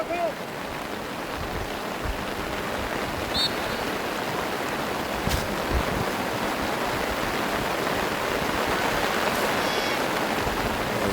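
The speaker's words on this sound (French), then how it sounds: "C'est pas facile de filmer sous la pluie." Steady rain falling at an outdoor youth soccer match, an even broadband hiss throughout, with faint distant voices and a few sharp ticks of drops or handling noise near the microphone.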